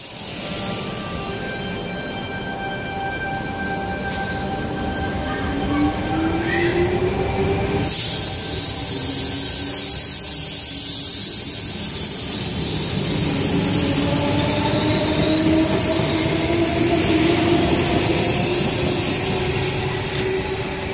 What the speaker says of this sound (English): Now departing platform number 2 here at Kogarah.